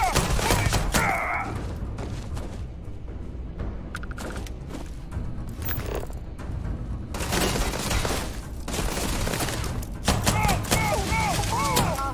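Bursts of sci-fi gunfire and sharp impacts crack repeatedly during a firefight in Starfield, with loud shots and thuds clustered over a busy game soundscape.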